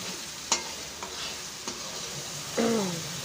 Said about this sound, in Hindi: मसाला भून रही है मेरी बेटी